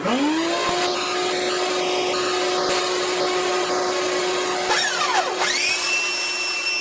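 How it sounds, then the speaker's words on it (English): A vacuum cleaner sucks dust out of a Regal parlor guitar: a loud steady whine that holds throughout, with its pitch swooping briefly as the nozzle shifts near the end. "I'm going to suck that dust right up in there."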